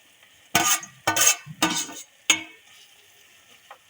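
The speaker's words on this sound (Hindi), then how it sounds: "जी चिकन को 2 मिनट हो गए हैं फ्राई होते हुए।" Chicken fries in a pan with garlic-ginger paste, stirred in four sharp scraping strokes with a soft sizzle between them, close and clear with no talking.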